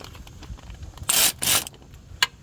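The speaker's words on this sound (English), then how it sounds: "So I have my electric wrench here" An electric wrench tightens the serpentine belt tensioner on a third-generation Mitsubishi Eclipse, giving two short, loud whirring bursts close by, then a single sharp click against quiet garage background.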